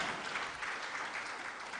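Applause from a business conference audience, a soft, even patter of many hands heard at a distance for under two seconds.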